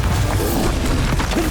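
A Bombarda spell blast in Hogwarts Legacy on Nintendo Switch lands as a loud, dense low rumble that stays heavy and sustained through a short burst.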